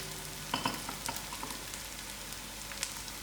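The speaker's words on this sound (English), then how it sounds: "Allow this to fry for a few moments." Whole black pepper, garlic and chilies frying in hot oil alongside half-cooked onions give a steady close sizzle, with a few sharp pops and crackles scattered through.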